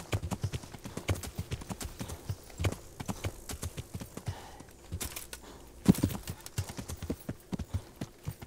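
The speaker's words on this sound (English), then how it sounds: "Come on, Pebbles, do not start bucking now." Horse hooves clip-clop in a steady trotting rhythm in the medieval game Kingdom Come Deliverance, close and fairly loud, with a few heavier thuds along the way.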